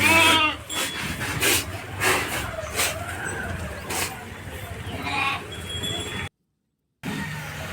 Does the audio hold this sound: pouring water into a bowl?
no